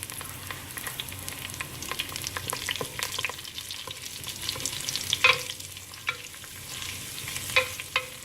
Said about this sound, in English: I've just thrown in the curry leaves right now